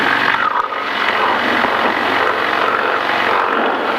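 A small training airplane's engine at full throttle during takeoff roll, a loud, dense, continuous roar heard from inside the cabin, steady throughout with no gaps.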